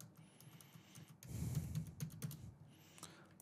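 Fingers tapping out a dummy mobile number on a computer keyboard, a quick burst of close, crisp key clicks in an irregular rhythm, with quieter taps before and after.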